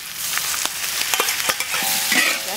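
Potatoes and chicken feet with oyster sauce and soy sauce are stir-fried in a clay pot. Brisk, close sizzling fills the clip, broken by sharp scraping strokes of the spatula, with no talking.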